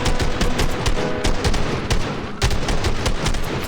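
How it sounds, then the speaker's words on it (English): Shotgun blasts in Fortnite, fired in fast, dense bursts of sharp reports that come close and loud one after another, with only a brief lull midway. "I just long-ranged him with a shotgun"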